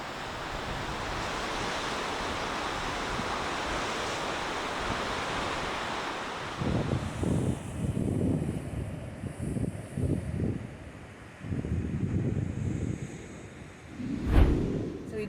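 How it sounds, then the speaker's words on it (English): Ocean waves crash against coastal cliffs on the California coast, a loud continuous roar of surf and wind, followed by gusty buffeting bursts on the microphone. "watch waves crash against the cliffs below in this breathtaking setting"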